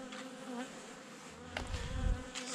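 Honey bees buzz in a hive late in the season before wintering, a close, continuous droning hum with a louder swell near the end.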